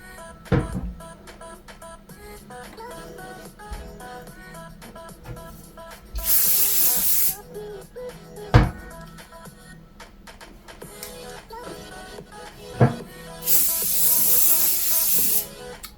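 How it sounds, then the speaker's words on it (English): Two bursts of hairspray misted onto lifted hair at the roots, each a loud hiss lasting about a second, with faint ticking handling noises and small knocks between them and no talking. "lift it up like that, and then hairspray"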